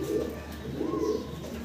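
Fancy pigeons at a pigeon seller's, one soft rolling coo rising and falling over steady background noise.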